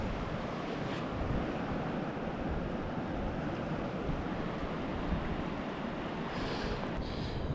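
Waves of the Irish Sea washing onto the shore, a continuous broad rushing wash mixed with wind buffeting the microphone, no voices.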